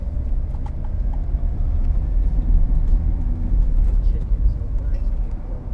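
Vauxhall Vivaro 2.0 CDTi Sportive van on the move, with a steady low diesel engine drone and road rumble close inside the cab, continuous throughout.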